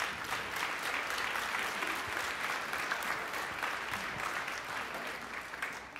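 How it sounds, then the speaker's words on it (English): Audience applause for the soloists of a high school jazz band at an evening concert: a steady, sustained wash of many hands clapping that stays full throughout before easing slightly at the very end. "another round of applause for our soloists on that number."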